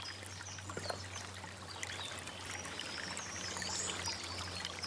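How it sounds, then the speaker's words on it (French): Water runs steadily between four enclosed garden beds beside a cloister and labyrinth, a soft continuous trickling and pouring close by, with faint birds and a low hum underneath and no one talking. "l'eau court entre les 4 jardins"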